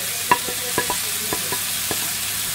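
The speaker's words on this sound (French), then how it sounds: "Donc on met les oignons. On va tout cuire en même temps." Onions, carrots, peppers and garlic cooking together in a frying pan for hachis parmentier, heard as a soft steady sizzle with several sharp scrapes of a utensil stirring the vegetables, no talking.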